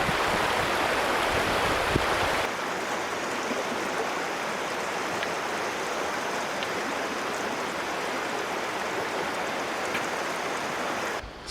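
River water rushing after recent rain in the Australian bush, a dense steady wash of flowing water heard close and loud, with no talking.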